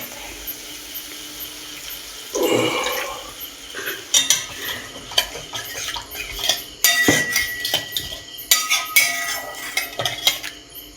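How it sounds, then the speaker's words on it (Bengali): Water is poured into a pan of tomato masala for a bhetki fish curry: a short splashing pour, followed by repeated clinks and scrapes of a utensil stirring against the metal pan, close and without talk. "জল ঢেলে দেবো।"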